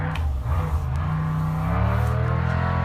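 An Ultra4 off-road race car at the Wild West 100 drives past, a loud close engine drone with a pitch that shifts as it goes by, and no voices.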